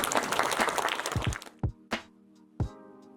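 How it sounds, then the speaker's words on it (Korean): Audience applause at an assistive technology seminar, a dense burst of many hands clapping for about a second and a half that stops abruptly, followed by a few isolated sharp knocks in a quiet room. "박수 한번 주십시오"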